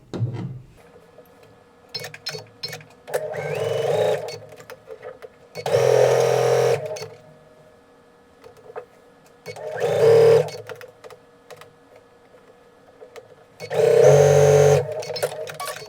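A sewing machine stitching fabric in several separate runs of a few seconds each, loud and close, with quiet pauses and small handling noises between bursts.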